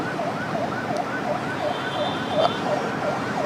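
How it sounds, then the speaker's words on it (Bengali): A wailing ambulance siren sweeps up and down in a fast repeating pattern over the rumble of road traffic as the ambulance heads toward the airport. "আমরা দেখতে পাচ্ছি তাকে বহনকারী সেই অ্যাম্বুলেন্সটি"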